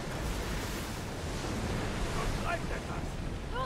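Stormy sea wind and waves from the Assassin's Creed Odyssey game, a steady, loud broadband roar of wind and surf that holds throughout, with faint brief voice-like calls near the end.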